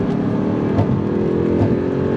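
A 2009 Audi R8 with a six-speed manual gearbox revs hard under acceleration, a loud, dense engine roar climbing through the gear from the cabin, with no speech.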